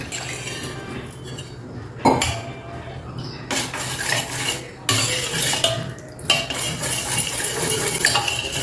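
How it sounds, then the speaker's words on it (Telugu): Thick curd is whisked with water in a bowl to make buttermilk, producing close, steady scraping and swishing with occasional metal clinks against the bowl. The sound continues without talk and is moderately loud. "ఇలా విస్కర్తో బాగా కలిపేసేయండి ఇలా చిక్కటి మజ్జిగలాగా చేసేసుకోండి"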